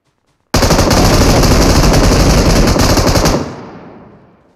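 A sustained burst of automatic gunfire in PUBG Mobile starts abruptly after a brief silence and hammers on loud and close for nearly three seconds before tailing off.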